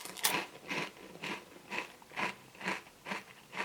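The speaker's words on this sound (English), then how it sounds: "let's go for a bite of this right piece." Someone chews a Ferrero Nutella B-ready crispy biscuit close to the microphone, producing a quiet run of crunching bites in an even rhythm, with no talking.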